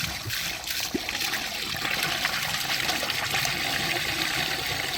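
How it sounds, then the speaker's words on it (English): Dirty cleaning water from an artificial turf cleaning job at a gym is poured out, a steady rushing, splashing flow running continuously at close range with no talk over it. "let's see the dirty water dump"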